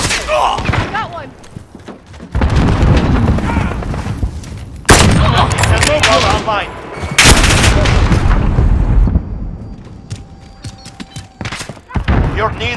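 Gunfire in Call of Duty: Modern Warfare, dense loud bursts and blasts close by, mixed with game voices and radio chatter throughout.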